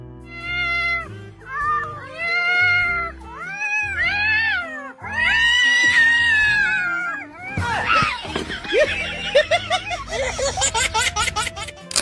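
Two boys imitating cats with a string of long, wavering meows and caterwauls, loud and close, followed by laughter and quick choppy vocal bursts toward the end.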